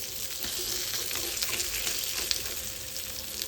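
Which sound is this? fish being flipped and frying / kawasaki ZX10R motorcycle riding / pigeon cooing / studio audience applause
fish being flipped and frying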